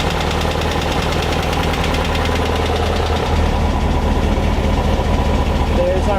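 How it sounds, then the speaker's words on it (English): Air-cooled engine of a Beck 550 Spyder replica idling with a steady, slightly knocking rhythmic putter, close and continuous, a voice briefly heard over it. "Listen to that idle."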